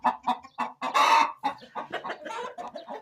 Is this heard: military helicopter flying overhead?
no